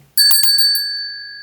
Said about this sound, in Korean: 바람이 불면 이런 풍경 소리가 납니다